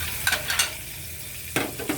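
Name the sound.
margarine melting and sizzling in a pan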